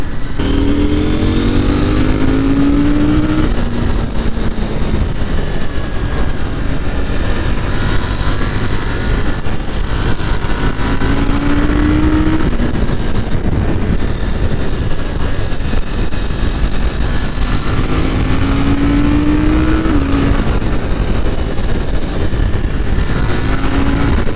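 KTM 890 Duke R motorcycle ridden in sports mode, its engine droning steadily and loudly close by, with three rising throttle pulls spaced through the ride.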